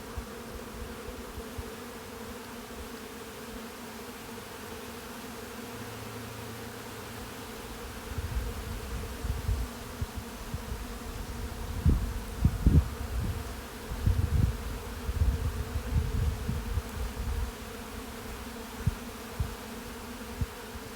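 Honeybees buzz around double nucs as they are moved into deep hive boxes, a steady low hum with louder swells and a few close passes about halfway through.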